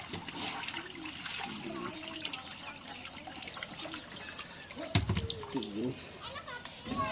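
Pabda fish fry are released into a new pond, with water splashing, trickling and gurgling as they pour in, while people talk nearby.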